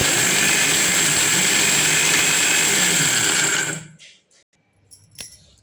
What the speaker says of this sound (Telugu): ఇప్పుడు నేను మిక్సీకి వేసేస్తున్నాను.